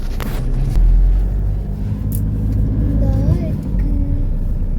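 Car engine running steadily as a family sets off from a grandmother's house in a Tamil village to see the fields, with a low rumble throughout and people talking over it.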